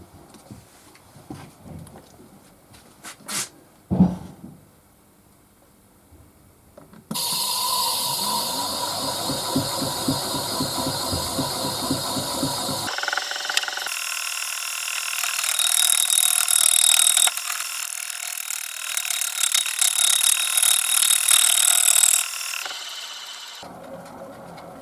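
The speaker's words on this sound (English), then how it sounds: "got a 1/2 inch bowl gouge to start with" A wood lathe turns a bowl while a 1/2 inch bowl gouge cuts it, making a loud, steady rasping and hissing noise that runs for about fifteen seconds and grows harsher partway through. Quieter handling sounds come before it, and no one speaks.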